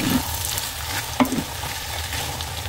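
Chicken pastille filling stirred in a hot pan, a sizzling fry bed with scraping spoon strokes and one sharp clack against the pan near the middle, close and loud.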